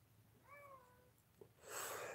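A house cat gives a single clear, rising-and-falling meow at close range in a quiet room, followed by a brief rustling noise.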